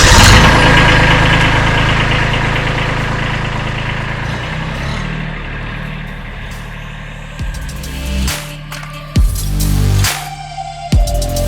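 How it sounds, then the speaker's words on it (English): A Kubota B2301 compact tractor engine runs loud and close, holding a steady idle-like drone, then surges in several uneven bursts of revving toward the end as the machine pulls away. "all that's left to do now is just pull out the tractor"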